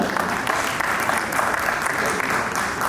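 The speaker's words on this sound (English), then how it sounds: "So, round of applause for this amazing panel." Audience applause for a panel at an African expo event, a full, even roar of many people clapping close and loud, steady across the whole stretch with faint crowd voices mixed in.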